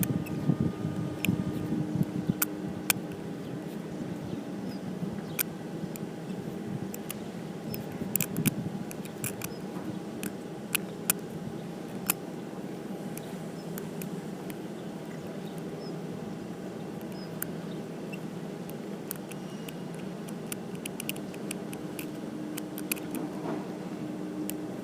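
A tension wrench and pick work the pins of an F.H.P steel padlock, producing faint, sparse metallic ticks and clicks scattered over a low steady background hum, with no talking.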